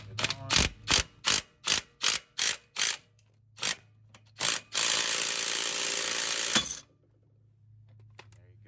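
A compact DeWalt cordless impact tool hammers a nut on a Lexus IS300 front end, firing in a quick string of rattling bursts, then one sustained run of steady impacting before it stops, close and loud with no talk.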